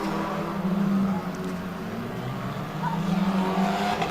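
Formula 4 race cars pulling away from the grid at a track, engines droning and revving at a distance in a steady, layered roar with no voices over it.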